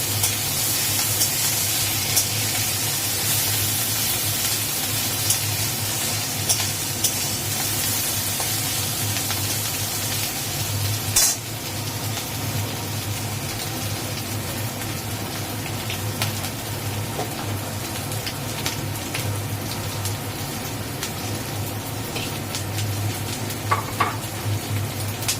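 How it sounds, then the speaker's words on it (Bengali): Green chili and ginger frying in hot oil, a loud continuous close sizzle with occasional sharp crackles and scraping stirs throughout, no voices. "এবার ওর মধ্যে আদা দিয়ে দিল, দিয়ে এবার এটাকে একটুখানি ভালো করে ভেজে নেবে"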